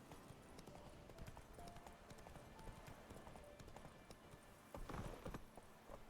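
Horse hooves clip-clopping at a gallop in The Witcher 3 video game, a quick continuous beat over low ambient game sound, faint and steady with a slightly louder burst near the end.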